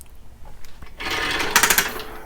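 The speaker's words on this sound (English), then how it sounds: "Let's blow through that little passageway" Compressed air from a nozzle with a rubber tip hisses into a small passage of a Honda carburetor, a short close burst that rises in a loud rushing blast after a brief quiet moment.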